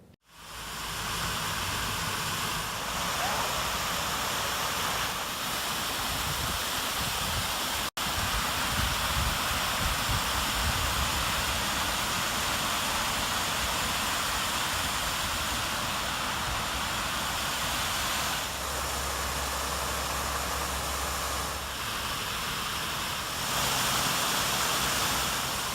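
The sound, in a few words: waterfalls at a memorial during a test run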